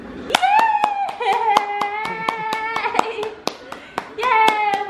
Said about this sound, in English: they are teaching her like clapping, and she gets so excited when they started clapping